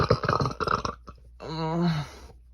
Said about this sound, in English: Baby can be burpy on command for daddy, but baby no have daddy, so baby burp for self.